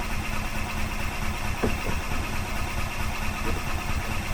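A 2005 Club Car Precedent gas golf cart, unrun for five years and given some choke, is being started: a steady, loud mid-pitched engine churn runs throughout with a few brief clicks, heard close.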